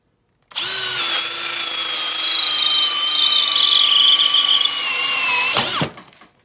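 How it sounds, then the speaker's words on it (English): A Makita XPH07 brushless hammer drill spins up sharply and drills for about five seconds at a steady high whine, then stops abruptly. The sound is loud and close, with no talking. "And now the brushless Makita XPH07."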